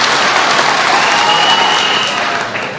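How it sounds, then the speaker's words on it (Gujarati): Loud, dense applause from a crowd at an Aam Aadmi Party political rally in a village near Jasdan, sustained throughout and tapering slightly at the end. "ફરી એક વખત બ્રિજરાજભાઈ માટે જોરદાર તાળીઓ થઈ જાય."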